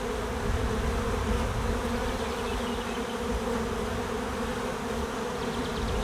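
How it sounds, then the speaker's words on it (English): Honey bees buzzing at a hive after a swarm, a dense, steady drone of many wings close by, loud and unbroken throughout. "there's bees."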